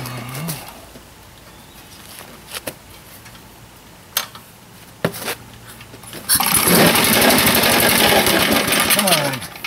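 A small go-kart engine gives a few sharp catches and pops, then runs loud and steady for the last few seconds, close up.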